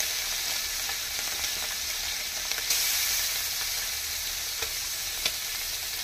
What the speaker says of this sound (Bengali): এরপরে আমি ছোটো ছোট্টো পেকাল মাছগুলো ভেজে নিচ্ছি